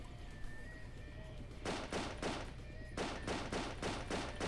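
Enemy gunfire in the 2009 PC game Blind Shot, two bursts of rapid automatic shots in quick rhythmic volleys after a quiet stretch, moderately loud with faint ambience between.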